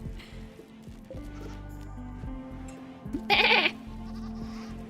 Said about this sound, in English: Bleating.